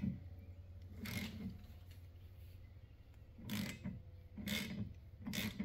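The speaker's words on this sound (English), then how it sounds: "ratchet in there. Just go ahead and tighten it down good." A ratchet tightening the nut on a car wiper arm gives four short, faint clicking bursts spaced unevenly over a low background hum.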